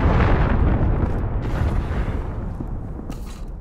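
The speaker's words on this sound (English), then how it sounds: "Allied cruise missile launched." A cruise missile explodes in Modern Warfare, a loud, close boom that rumbles and slowly fades over a few seconds.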